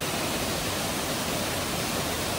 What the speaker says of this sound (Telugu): మరో బ్యూటిఫుల్ వాటర్ ఫాల్ కనిపించింది